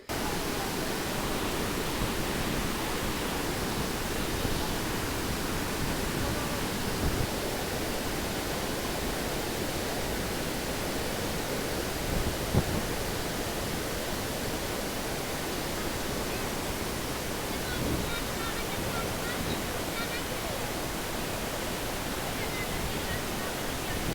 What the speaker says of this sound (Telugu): గేట్ల నుంచి వారుతున్న కృష్ణమ్మను చూసి మురిసిపోతురు జనాలు